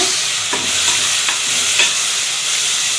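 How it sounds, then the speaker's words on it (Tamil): Onions and tomatoes sautéing in a clay pot give a loud, continuous close-up sizzle, with a few soft stirring scrapes breaking through. "இப்போ தக்காளி சேர்த்துக்கிறேன். இதையும் சேர்த்து நல்லா வதக்கிக்கோங்க."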